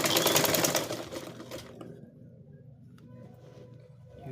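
A sewing machine stitches an overlap waistband with a loud, steady whirring run that stops after under two seconds, leaving a quiet room.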